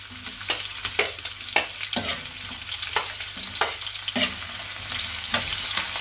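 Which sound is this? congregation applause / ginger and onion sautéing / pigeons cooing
ginger and onion sautéing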